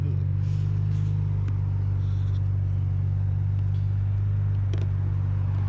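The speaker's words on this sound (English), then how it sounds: "Let me shut the hood and see what she's doing idle first." A car engine idles with the hood shut, a steady low rumbling hum holding constant throughout, with a few faint clicks and knocks over it.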